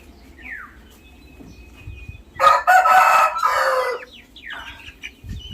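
Chickens cluck and a rooster crows loudly at a small poultry farm, the crow a sustained burst in the middle with quieter clucks and chirps before and after.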